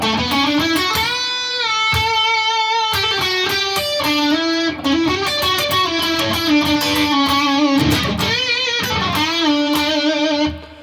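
A melodic electric guitar line from a guitar solo played alone, with bright harmonic-rich notes, bends and sustained tones over about ten seconds, steady and close.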